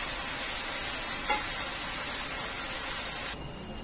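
Tomatoes frying in oil in a pan for baingan bharta, a loud, continuous close-up sizzle and hiss that drops suddenly in level near the end.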